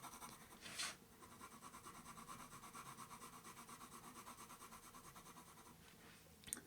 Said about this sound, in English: I'm literally just touching the paper with the pencil and then letting the weight of the pencil do the work for me.